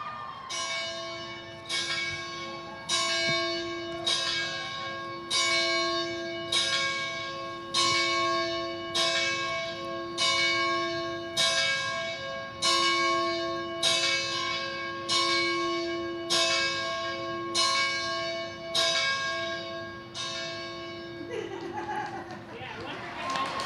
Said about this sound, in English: Ring the bell, Jenna.